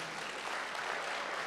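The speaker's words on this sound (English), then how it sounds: "Please give the team from TCL a lovely round of applause." Audience applause for the TCL team at a C-Series launch event, a steady wash of clapping held at moderate level throughout the short stretch, with no voices over it.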